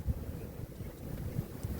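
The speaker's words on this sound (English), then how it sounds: "I'm sure you can hear the wind in the background." Strong wind, with blowing snow, rumbles against the microphone as a continuous low roar, with a few brief thumping gusts and no talking.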